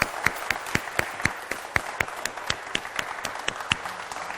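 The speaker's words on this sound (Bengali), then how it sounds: "চলুন একসাথে আমাদের 5 জন পার্টিসিপেন্টসের জন্য জোরে হাততালি দেই।" A studio audience at a cooking competition claps in a steady, even rhythm for the five participants. The sharp, regular claps repeat throughout a brief stretch of crowd applause.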